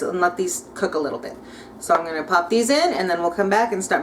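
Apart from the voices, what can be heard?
No everyday noise stands out behind the speech.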